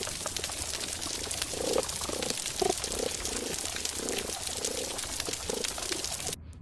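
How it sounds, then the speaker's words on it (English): Underwater chirps and clicks from damselfish come in short repeated bursts over a constant crackling background of snapping shrimp, faint and fairly close. "So lots of chirping, lots of clicking."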